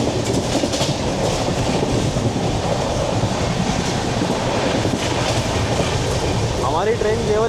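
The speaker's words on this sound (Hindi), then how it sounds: "हमारी ट्रेन केवल 110 पे चल रही है।" Sangam Express passenger train running at speed between Meerut and Prayagraj, heard from inside the coach as a loud continuous rumble and wheel clatter with rail squeal near the end, speech faintly mixed in.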